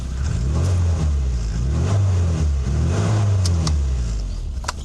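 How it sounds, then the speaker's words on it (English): A 1998 Rover Mini Cooper with an aftermarket exhaust revs repeatedly close by, the engine note rising and falling in several throttle blips over a steady idle rumble. "And before that, we're going to rev it."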